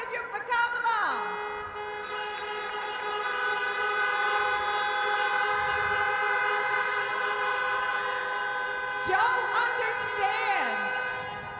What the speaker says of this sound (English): So honk your horns if you're for Kamala.